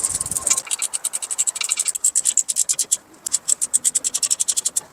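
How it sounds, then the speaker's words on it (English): A ratchet wrench tightening 18mm nuts on a Nissan Titan axle during a bearing and seal job, clicking in fast, close, even bursts that pause briefly before resuming. "Alright, now tighten down all 18mm nuts."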